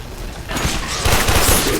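Shotgun fire in the video game Warframe: dense bursts of gunfire crackle and boom in quick succession, loud and close, with no talking.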